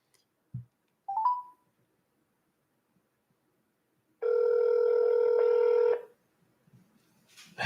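A phone call being placed again shows up as a short dial blip, then one sustained electronic ring tone lasting nearly two seconds with a faint click afterward. Nobody speaks.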